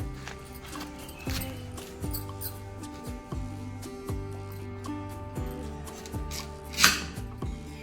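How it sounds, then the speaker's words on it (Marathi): A knife chops peeled raw green mango for a summer drink, striking the board in steady, evenly spaced cuts, close and clear, with no talking over it. "आता जे सालं काढून घेतलेली आहेत आता आपण कट करून घेणार आहोत"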